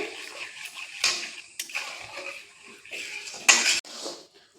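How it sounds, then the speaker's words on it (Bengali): A raw rice mixture being stirred in a metal kadai, with scraping spoon strokes and sharp clinks against the pan in irregular bursts, the loudest knock near the end. "অনবরত নাড়াচাড়া করে দেখুন চালের মিশ্রণটাকে এইরকমভাবে কড়া থেকে ছেড়ে যাবে"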